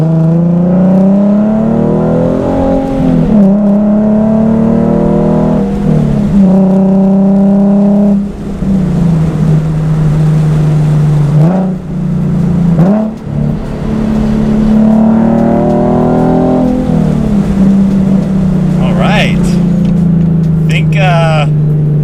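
A Nissan 370Z's loud exhaust drones and rises through gears while driving, with revs climbing, dropping on shifts, and brief crackles near the end; occasional talk underneath.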